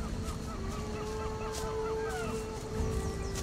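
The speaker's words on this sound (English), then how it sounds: "Oh, turkeys." Turkeys gobbling in the Risen 2 video game, a rapid warbling burst of bird calls repeating several times at moderate loudness over steady game background noise.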